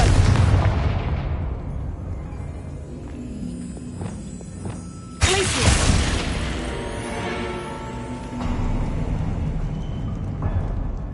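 Confringo blasting spell explosions in Hogwarts Legacy, two heavy booming blasts, the first opening loud and the second striking sharply midway, each followed by rumbling debris and crackle that fades, with no voices.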